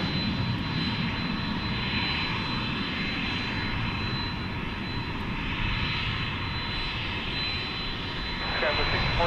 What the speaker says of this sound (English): Viva Aerobus arriving from Silao in Mexico. An Airbus A380.